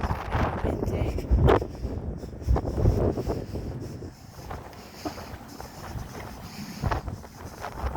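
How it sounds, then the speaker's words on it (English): Strong wind gusting on an outdoor morning walk with a dog nearby: heavy, low rumbling buffets against the microphone that swell and ease continuously, loud and close, with no talking. "It is windy this morning."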